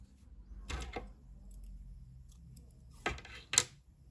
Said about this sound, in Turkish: Beyaz renkli ipliği kesiyorum